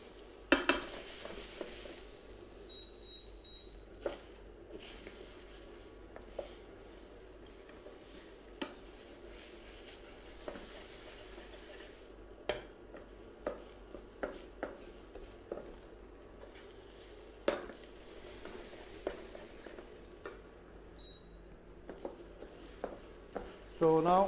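Cherry tomatoes sautéing in a pan for a kale and baby spinach risotto, a low steady sizzle broken by frequent clinks and scrapes of a spoon against the pan.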